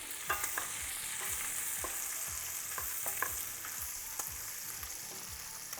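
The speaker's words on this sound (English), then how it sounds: "We're gonna let it simmer in its own fat and start crispying up." Bacon sizzling and crisping in its own fat, a soft continuous hiss with scattered small pops and crackles throughout, fairly quiet and with no voices.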